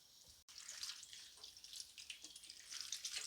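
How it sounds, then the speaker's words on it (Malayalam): Grapes are rinsed in fresh running water, a soft splashing and trickling with small irregular bursts, fairly faint and close, with no talking. "ഫ്രഷ് വെള്ളത്തിൽ കഴുകാം."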